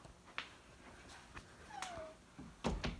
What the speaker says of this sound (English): I got to let my cat out